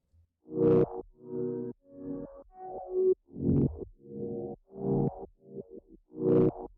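A looped piano figure with a slowed, halftime bass pulse from a Shaper Box effect underneath, chords landing in short repeated phrases, moderately loud with no talking.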